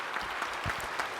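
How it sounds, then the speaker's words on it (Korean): A church congregation applauds at a Sunday service in Korea, a dense, even wash of many hands clapping that holds steady and fairly loud for the whole moment. "전국교회 목사님들을 향하여 박수 한번 하세요"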